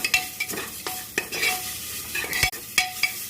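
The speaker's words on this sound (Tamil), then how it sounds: "அதுக்கு முன்னாடி கருவேப்பிலை போட்டுக்கோங்க" Curry leaves hit hot oil in a pan, giving a crackling sizzle broken by several sharp scraping stirs of a spoon against the vessel, close and fairly loud, with no voices.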